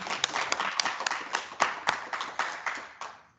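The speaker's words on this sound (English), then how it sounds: "we'll give you a round of applause" A small meeting audience claps for a presenter, a thin, uneven round of applause with distinct individual claps that fades out after a few seconds.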